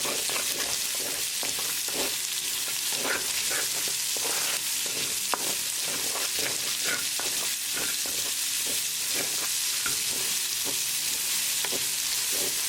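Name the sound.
onion frying and being stirred with garlic in a pan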